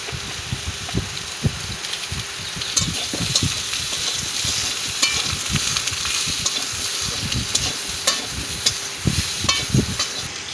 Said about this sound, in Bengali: পটলগুলো হালকা হালকা করে ভেজে নেওয়া হবে।